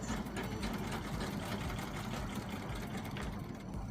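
A sewing machine stitches the sides of velvet fabric for a handbag, a steady close mechanical whirring hum that runs continuously throughout.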